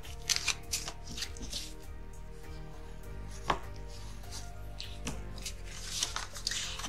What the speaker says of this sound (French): vous marquez le pli qui est ici